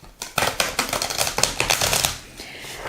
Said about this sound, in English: Now I'm just going to reshuffle my cards here.